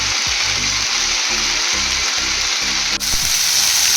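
Tomatoes frying with onions in a pan, a loud steady sizzle close by with rhythmic low scraping or stirring thumps repeating about every half second.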